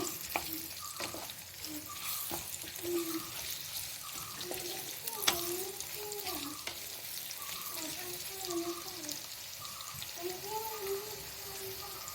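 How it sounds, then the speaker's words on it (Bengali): Chopped onion lightly frying in a pan for Bengali shorshe bhetki, giving a steady close sizzle with occasional stirring scrapes and soft tonal melodic sounds running underneath throughout. "পেঁয়াজটা হালকা করে ভাজা হয়ে গেছে।"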